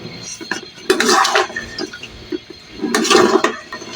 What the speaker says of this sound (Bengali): এখন সুন্দর করে নাড়া দিব।